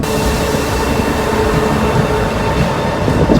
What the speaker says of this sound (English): Okay, so train's arriving now to Madrid.